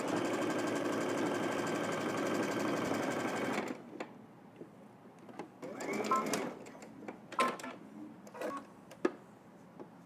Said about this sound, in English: now let's head to the machine. We're going to stitch all the way across using 5/8 of an inch seam allowance.